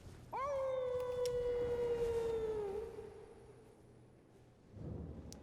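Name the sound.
hound howling near Forlorn Hound Everjail in Elden Ring video game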